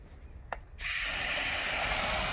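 A pressure washer with a candle tip spraying a vinyl fence to remove mildew: after a brief quiet moment, a steady loud hissing spray starts and continues without a break.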